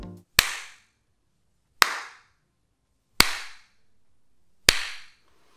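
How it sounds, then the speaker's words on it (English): Four single hand claps ring out one at a time in a home theater room, each a sharp, loud crack about a second and a half apart, followed by a short echo tail and then silence. "but I'll do a clap test."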